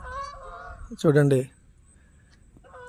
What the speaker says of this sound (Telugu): బర్డ్స్ వెళ్తున్నాయి పైన